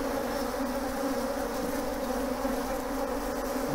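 Honeybees swarm around an opened hive during an inspection, their agitated buzzing forming a dense, continuous drone that holds steady throughout, close and moderately loud with no voices.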